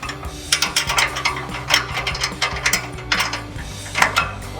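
A small stubby ratchet turns the nuts and bolts on a front bumper for a 2007-2013 Silverado 1500, giving quick, rapid clicking bursts in an uneven rhythm, close and clear with no voices.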